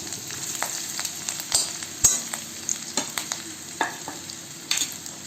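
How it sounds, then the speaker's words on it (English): Fresh ginger and garlic sauteing in a pan: a continuous close sizzle broken by a dozen or so sharp spatula scrapes and taps at an uneven rhythm, no talking. "Let it saute for a while."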